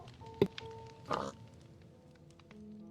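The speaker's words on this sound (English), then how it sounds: "He also won't stop playing that oink sound effect." A pig oink sound effect plays in a video game, a short grunting snort followed by a louder rasping oink, fairly close, over a faint tonal background hum.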